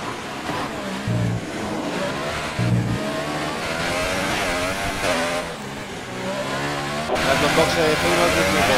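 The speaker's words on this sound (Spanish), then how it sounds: "viene Uda José con el Ferrari, compañero de Goru" A Ferrari Formula 1 car engine in the F1 2018 racing game during Spanish Grand Prix qualifying, droning and revving continuously at close range beneath a commentator's running talk.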